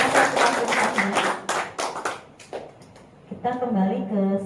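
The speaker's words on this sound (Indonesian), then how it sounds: "Oke, tepuk tangan semuanya." Audience clapping after a presentation in a teaching session, a burst of applause over the first two and a half seconds with a voice speaking over it, then talk continues alone.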